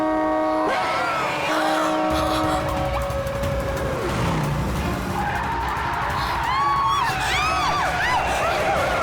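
A car tears away with tires skidding and squealing during a chase in a CID Independence Day episode, engine roaring loud and close over tonal background music throughout.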